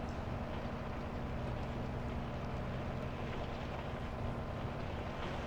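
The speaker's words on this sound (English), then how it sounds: "But boy, is this a big tractor." A big tractor pulls a mulching combo disc through a Saskatchewan field, a steady, faint low engine rumble mixed with wind noise, continuous with no change in pace.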